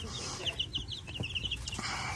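Young Buff Minorca chickens make a quick run of soft, high peeping clucks, faint and close together, over quiet background noise.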